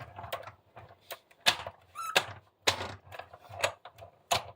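A manual card-cutting machine pressed through paper for a greeting card, giving a series of mechanical cranking, squeaking and ratcheting bursts at a steady pace, close and moderately loud with no talk.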